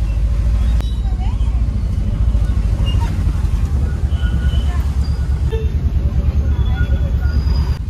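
Heavy night road traffic with oncoming cars and buses streams past nearby as a loud, continuous rumble, with occasional horn toots and a voice talking over it.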